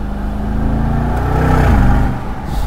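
A Brabus G700 revs hard under acceleration, its engine and exhaust giving a loud, close, deep rumbling roar that climbs in pitch and then eases back, heard alone.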